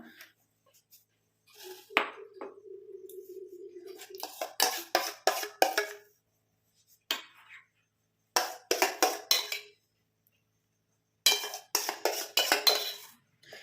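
A cooled homemade mixture is spooned from a pan into a bowl: bursts of clinking and scraping of utensil against cookware, separated by short silences, close and fairly quiet.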